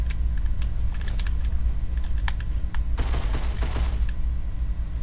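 Assault rifle fire in a video game gun game, rapid automatic bursts layered over keyboard clicking, with a denser, louder volley partway through, and no talking.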